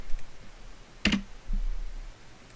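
Computer mouse clicks while working in AutoCAD, a quick close double click standing out over a faint background hum, with no talking.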